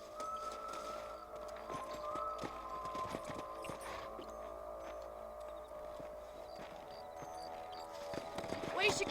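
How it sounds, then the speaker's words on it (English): Horses trot in the Red Dead Redemption video game, emulated from Xbox 360, with steady clip-clopping hooves, a held tonal hum, and a louder clatter at the end, under occasional voices. "Let's get back on the horses and see what else is going on."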